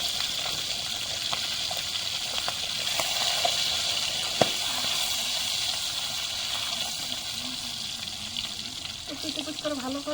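A turmeric-dusted fish head fries in hot oil, giving a loud, continuous sizzle and bubbling crackle throughout, with occasional spatters and a voice speaking over it.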